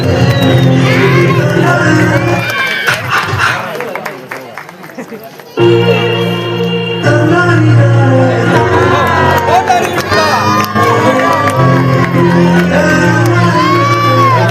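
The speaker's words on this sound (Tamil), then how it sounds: "உங்கள் கரகோஷங்களை எழுப்பி இவர்களை கேட்டுக்கொள்கிறோம்." Crowd cheering and calling out at an Annai Meenambal Sivaraj award ceremony for Ambedkar Jayanti, a dense hall-wide roar that dips briefly near the middle and swells again, with voices carrying over it.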